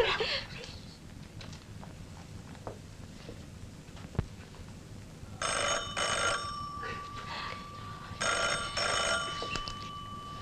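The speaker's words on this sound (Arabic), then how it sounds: "روح رد على التليفون" A telephone rings indoors in two bursts of an electronic trilling ring over a background of room noise and voices.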